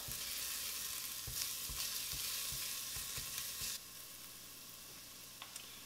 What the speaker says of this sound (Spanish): y agregamos el ajo. Vamos a revolver.